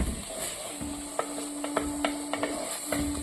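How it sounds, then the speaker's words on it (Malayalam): Tomatoes sauté in a pan for a prawn curry, giving a soft steady sizzle broken by several sharp taps and scrapes of a stirring utensil, close by with no talking. "തക്കാളി ഇട്ടൊന്ന് നന്നായി വഴറ്റണം."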